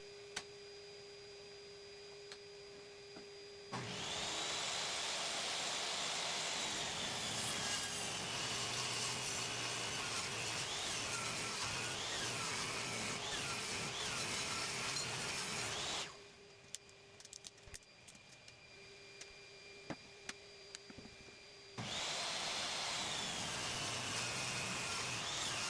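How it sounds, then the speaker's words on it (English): A table saw rips both edges off a 2x4 in two loud, sustained passes, a long cut and then a second after a short pause, the blade whining steadily between idle hum. "But first I rip both sides off on the table saw."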